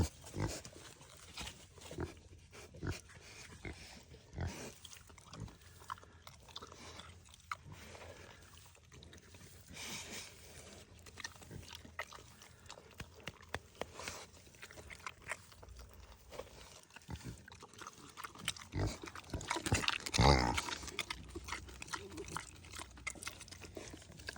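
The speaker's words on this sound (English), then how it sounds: "I'm just trying to feed the pigs some pumpkins" Farm pigs munch and crunch on pumpkin for a long stretch, with close, irregular chewing, biting and snuffling sounds, occasional grunts and a louder squeal-like burst near the end.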